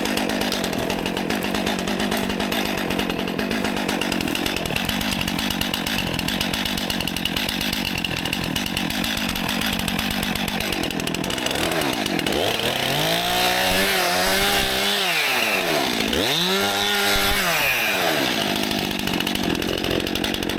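Chainsaw cutting wood during winter logging in Finland at -21°C, with a loose chain; a loud continuous engine drone that rises and falls in pitch as the saw bites into the log late on, close and without talk.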